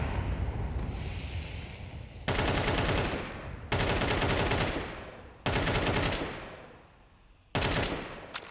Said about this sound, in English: Shots will ring out here.